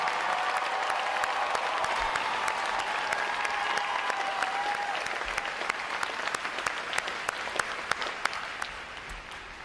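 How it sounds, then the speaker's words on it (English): Sustained applause from a large crowd at a U.S. Navy boot camp graduation, honoring the recruit choir, drill team and band, steady dense clapping with a few sharp near claps standing out toward the end. "How about a round of applause for outstanding performance?"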